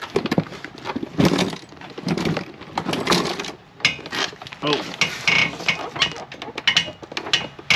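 Creaking and clunking from the worn front suspension and tie rod ends of a 1997-2001 Honda CR-V, a run of irregular knocks and groans heard up close as the body moves, with a brief voice in between.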